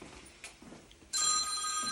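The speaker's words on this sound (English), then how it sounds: "it's calling my phone too." A phone rings in a quiet room: after a second of faint background noise, a loud electronic ringtone starts abruptly and sustains to the end.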